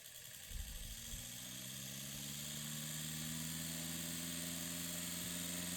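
A 1909 Westinghouse all-brass 8-inch electric fan runs on low speed, a steady, quiet motor hum with a faint whir and slight wobble, settling after a brief start-up rise and continuing alone.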